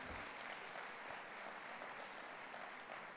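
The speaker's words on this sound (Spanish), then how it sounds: "un aplauso para Eduardo, que ha creído en nuestra San Ignacio" An audience claps steadily at a book presentation, a dense, even wash of applause that holds at a constant level for the whole stretch without pauses.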